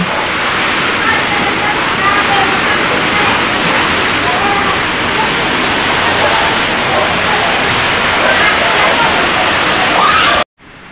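Heavy rain pours steadily during a typhoon, a dense, loud roar of water that holds constant for about ten seconds before cutting off abruptly near the end.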